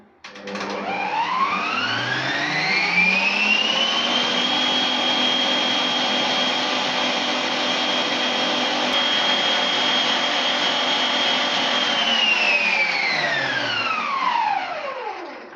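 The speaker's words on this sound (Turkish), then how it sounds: "Ve 2-3 dakika kadar daha çırpacağım." An electric mixer whisks eggs and sugar with added liquids into batter for a Turkish mole cake (köstebek pastası). Its steady motor whine climbs in pitch, holds for about ten seconds, then winds down, loud and close with no talking.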